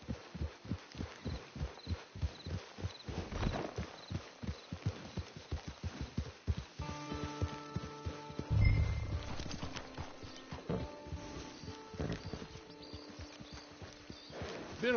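Horse hooves clip-clop in a steady walking rhythm in Red Dead Redemption II, close and clear, then continue under a quieter ambient scene with a brief thump partway through.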